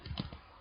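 Keystrokes on a computer keyboard during a coding session, a short burst of a few close, soft taps clustered near the start, then fading into quiet room noise.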